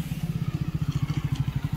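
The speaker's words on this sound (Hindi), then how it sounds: "तो जी आ गई है मोटरसाइकिल" A motorcycle engine idles nearby with a steady, even thump of rapid exhaust pulses throughout, loud and unaccompanied by talk.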